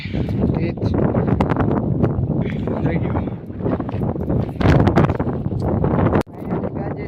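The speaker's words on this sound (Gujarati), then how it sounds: "મસ્તિકનો પવન આવે છે બહુ. તમને અવાજ સંભળાતો છે" Strong, steady wind buffets the microphone with a loud, continuous roar, gusting harder near the end, with a voice partly audible beneath it.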